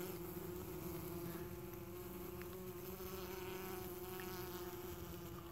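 Honey bees fan at a hive entrance, making a steady, even buzzing hum with no breaks, close but fairly quiet, with no voices.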